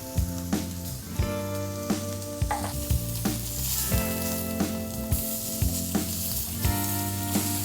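Lamb sizzles in a hot pan with a steady, close frying hiss. Periodic clatters of stirring or tossing break in, and a droning tone runs underneath.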